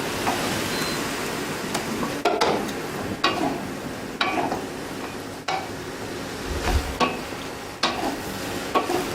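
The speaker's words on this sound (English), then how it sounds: "And I keep on stirring." Colourful sliced peppers frying in a pan are stirred with a utensil, giving a continuous soft sizzle broken by repeated scraping and clinking strokes at an irregular rhythm, close and moderately quiet.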